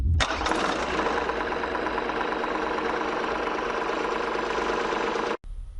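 An LS XJ2025 diesel tractor engine cranks briefly and catches, then idles with a steady, close, knocking rumble before cutting off abruptly at the end.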